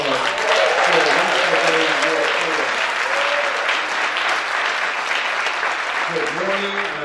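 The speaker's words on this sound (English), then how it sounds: "So let's hear a round of applause." Crowd at a church ribbon cutting on Upper Georgia Avenue claps in a loud, sustained round of applause outdoors, with voices talking and calling over the clapping.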